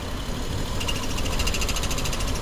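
A 2011 Jeep Wrangler 3.8L engine with injector 2 disabled runs with a steady low rumble and a rapid rhythmic ticking, close and fairly loud, with no voices.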